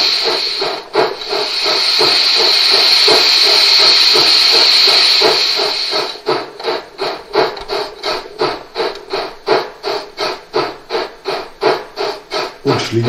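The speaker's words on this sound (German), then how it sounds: "Der Zylinderdampf wird auch bei Aktivierung der Funktionstaste für Zylinderausblasen entsprechend getaktet." Cylinder steam from a gauge 1 KM1 BR 10 model steam locomotive hisses steadily at first, then breaks into rhythmic chuffing bursts of steam, close and loud, with no talking.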